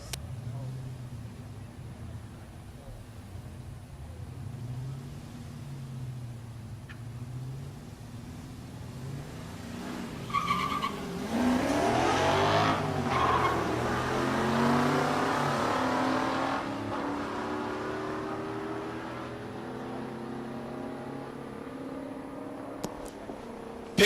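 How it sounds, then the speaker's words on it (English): Drag race car engines rumble and rev in the distance during burnouts, swelling into a loud roaring burst midway, with a public-address voice talking beneath. "Finish their burnouts and get those cars staged."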